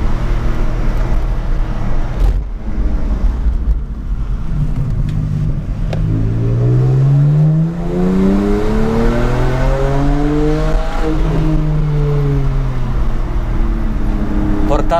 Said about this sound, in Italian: Portarlo a 7000 giri così,